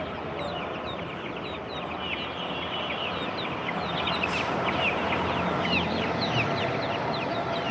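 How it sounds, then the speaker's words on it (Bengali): Chickens cluck steadily at a busy bird market, a dense chorus of hens and chicks under a constant crowd murmur, with no speech standing out. "এই সাইডে আছে পাখি মুরগি বাচ্চা"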